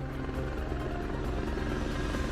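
A military helicopter, an Apache or Cobra, drones loud and steady with a fast rhythmic rotor chop throughout and no voices.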